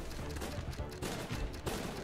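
Gunfire in the video game Guns Up!: dense overlapping bursts of shots and impacts in rapid clusters, loud and continuous with a brief lull midway, with no voices.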